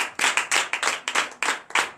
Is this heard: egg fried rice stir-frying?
no